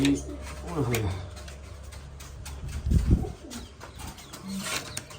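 Pigeons coo nearby amid a busy mix of rustling and handling noises, with people talking intermittently.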